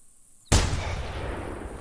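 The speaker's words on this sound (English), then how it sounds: "so we're going to take a shot on this guy right here." A single sharp .270 rifle shot at a mule deer buck in the hunting game theHunter 2018 bursts loud out of near silence, then trails off into a long, rumbling echo.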